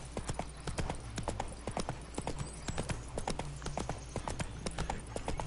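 Roach, the horse in The Witcher 3, gallops in a steady rhythmic run of hoofbeats, sharp and continuous throughout, fairly quiet overall.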